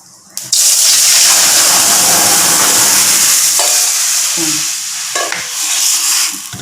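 Tamarind water for omam rasam is poured into a hot pan and bursts into a loud, sudden sizzle that stays steady and close, with faint clinks of a vessel.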